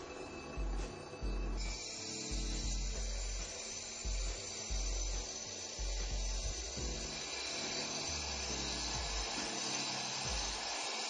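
A Turbo Max 7 concrete floor grinder runs steadily, a loud continuous motor whine and rumble with no pauses or talk.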